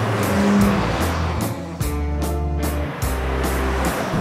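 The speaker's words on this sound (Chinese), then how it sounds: "一定听到了，我这个车它那个排气管的声音非常澎湃，" Car engine with a holed exhaust pipe wrapped in cardboard, small displacement, roaring loudly and continuously, its exhaust note swelling and dipping in pulses with no talk over it.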